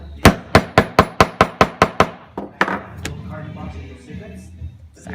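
A small hole punch is hammered through a paper notebook cover, about ten sharp evenly spaced strikes up close, then a few slower, softer knocks and handling sounds.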